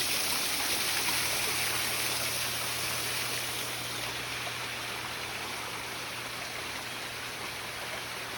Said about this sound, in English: Right here by the waterfall.